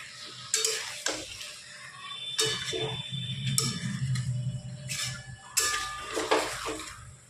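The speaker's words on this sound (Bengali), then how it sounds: "এবার ভালো করে লবণটা মিশিয়ে নিচ্ছি চিকেনের সাথে।" Chicken being stirred with salt in a metal pan, a utensil scraping and clinking against the pan in repeated strokes over a low sizzle, close and fairly loud with no talking.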